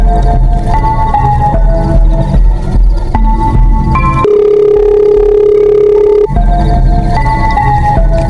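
Telephone tones sound loud and close while calling an ambulance: a series of stepped dialing beeps, then a long steady ringing tone, followed by more beeps.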